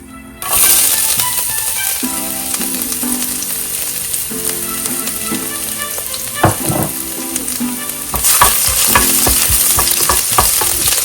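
Steady loud sizzling of ginger frying in hot oil after mustard seeds, with occasional stirring clinks and scrapes from a pan, no voices.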